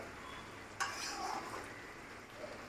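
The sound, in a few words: stirring chicken curry in a pot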